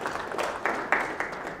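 An audience at an MOU signing ceremony applauds in brief, moderately loud bursts of clapping that swell and fade over a second and a half.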